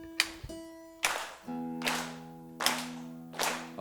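Three or four loud, sharp claps in unison ring out at an even pace from an audience at a Taylor guitar roadshow, each one separated by sustained ringing guitar notes.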